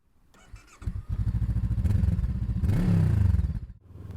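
A 2022 VOGE 500 DSX adventure motorcycle cranks and fires up close by, settling into a throbbing idle, then revs once and pulls away, its pulsing engine note fading at the end.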